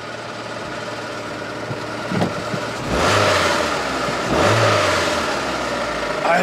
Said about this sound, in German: Kommt irgendwo vom Kopf das Klappern.